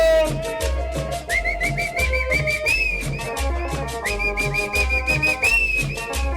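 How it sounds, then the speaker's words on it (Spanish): Bright melodic whistling rides over a thumping cumbia beat at a sound-system event in León, Guanajuato, the notes sliding and repeating in short phrases. "Mira el silbidito."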